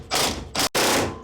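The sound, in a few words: pitman arm puller popping pitman arm off Jeep steering shaft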